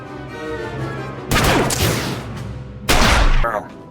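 Blaster gunfire in a Star Wars video game erupts in two loud, dense bursts of rapid shots over a background drone, close and harsh.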